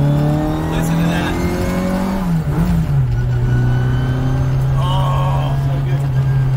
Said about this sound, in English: we did go with straight cut drop gears because... I like the sound